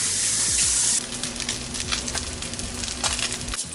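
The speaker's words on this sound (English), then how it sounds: "You can hear the salmon sizzling over there." Salmon burgers sizzle loudly in a hot pan, a steady bright frying hiss strongest in the first second, with occasional pan clinks and shuffling underneath.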